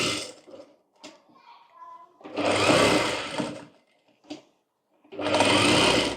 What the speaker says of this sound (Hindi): यहाँ से हम स्टिच करेंगे और इस तरह से तिरछी सिलाई करेंगे।